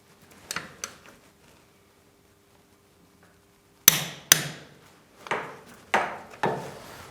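A swingarm bolt on a BMW R 1150 GS motorcycle is torqued to 160 Nm in a workshop: a few soft knocks, then a quiet pause, then a run of sharp metallic clicks and clacks, close and fairly loud.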